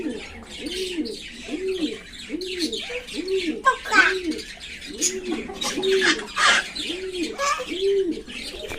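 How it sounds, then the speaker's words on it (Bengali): Garden birds chirp and twitter in a busy high chorus, while a dove coos in a steady, evenly spaced rhythm underneath, close and clear throughout. "বাগানে যে বর্দি পাখিগুলো থাকে সারাদিন কিচ কিচ কিচ কিচ করতেই থাকে"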